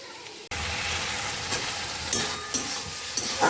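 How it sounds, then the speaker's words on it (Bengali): Potatoes stir-fried in a pan with ginger, turmeric, salt and cumin powder give a steady close sizzle that starts abruptly, with a few scraping stirs of the spoon standing out now and then. "এই যে আলুটাকে ভালো করে একটুখানি কষিয়ে নিই"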